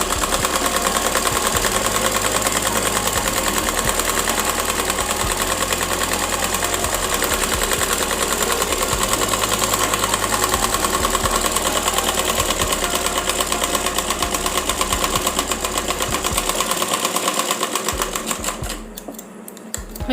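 A sewing machine runs steadily, close and loud, double stitching the skirt panel of a child's umbrella frock, a continuous fast mechanical whir that stops near the end. No one talks.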